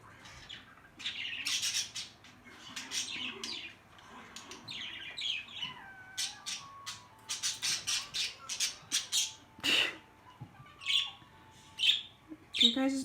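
Pet birds squawk and chirp in short, sharp bursts that grow busier and louder toward the end, heard close indoors with no talking.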